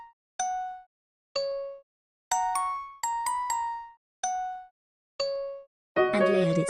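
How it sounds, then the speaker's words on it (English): Layered bell tones play a melody in a music production, with clean struck notes ringing and decaying one after another, some quickly repeated, before a denser burst of mixed instruments at the end. "And layered it with a different bell."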